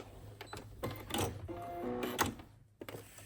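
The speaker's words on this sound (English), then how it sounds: "we're gonna sew straight down this edge. Put that back down. And back stitch." A home sewing machine runs in short mechanical bursts while straight-stitching and back-stitching along a fabric edge for a tote bag, close and clicky with brief pauses between runs.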